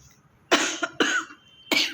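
Three loud, raspy coughs in quick succession, very close by, each a short forceful burst with brief pauses between.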